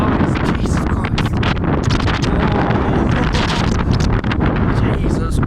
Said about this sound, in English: Jesus Christ, this wind's strong.